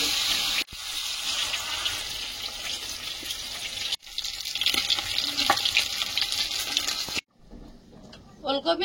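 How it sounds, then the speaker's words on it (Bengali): Water pours into a sizzling tomato, onion and green chilli masala, a hissing gush over steady frying noise with a couple of abrupt breaks. The sound then drops to a quieter bubbling, and a voice is heard at times. "এবার জল দিয়ে দেবো।"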